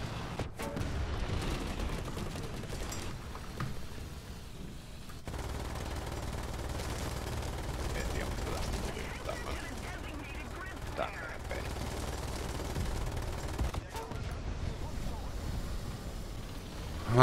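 Continuous gunfire and explosions in the War Thunder tank game, with dense rattling bursts and booming shots over a steady rumble of engine and battle noise, loud throughout.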